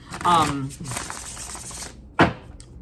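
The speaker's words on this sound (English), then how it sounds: "You can do the bridge shuffle. You also can do like this sideways shuffle." A plastic Rider tarot deck being shuffled by hand, a close, loud riffle of cards followed by a brief second burst, with a voice speaking between them.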